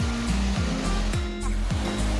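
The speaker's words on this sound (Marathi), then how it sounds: "हा धबधबा." A monsoon waterfall in the Sahyadri hills near Karjat roars with a loud, continuous rush. Low, rhythmic rumbling pulses run beneath the hiss.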